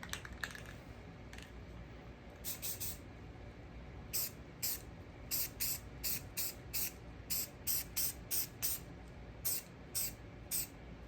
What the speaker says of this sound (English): So I'm going to hit it with a can of sealer, and we'll see what it looks like.